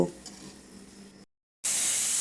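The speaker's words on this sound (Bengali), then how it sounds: "মাসকালের ডাল দিয়ে খিচুড়ি রান্না করছি এটা সুন্দর মতো করে ভাজা ভাজা করে তাকে সুন্দর করে রান্না করে দেব" Khichuri made with black gram dal fries in a pan with a steady, close sizzling hiss, then cuts out briefly before returning as a louder, brighter sizzle.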